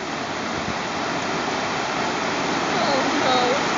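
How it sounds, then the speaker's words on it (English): A river rapid dropping like a waterfall on the Ottawa River roars in a steady, broad rush of white water, loud and continuous throughout, slowly swelling toward the end. "In fact, I dare say I call it a waterfall, Sid."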